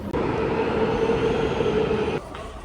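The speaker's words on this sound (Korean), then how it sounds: "지하철 타러 왔어요." A subway train in a station roars loudly and steadily with a whining tone for about two seconds, then the noise drops off abruptly as the train passes or stops.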